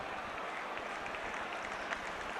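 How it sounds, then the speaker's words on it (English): A football crowd at a 1980-81 West Bromwich Albion versus Manchester United match applauds steadily, a dense, distant wash of clapping that holds level throughout with no clear voice above it. "but the crowd applaud nonetheless"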